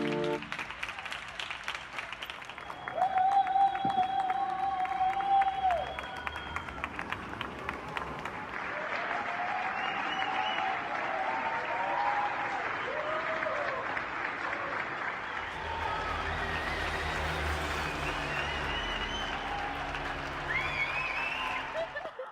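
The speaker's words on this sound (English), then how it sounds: "that applause could be made for healthcare workers everywhere" Residents in Spain applaud healthcare workers from their windows, a sustained wash of clapping spread across a neighbourhood with cheering voices, a whistle-like tone and other street sounds rising through the middle.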